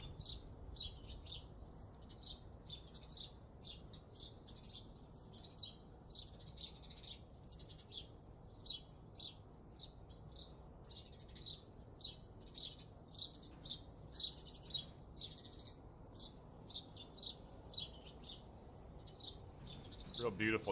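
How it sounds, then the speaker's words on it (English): Birds chirp in the VR shooter Onward: short, high tweets repeat steadily for the whole stretch over a quiet outdoor ambience, fairly faint and at a middle distance. "Birds are really obnoxious."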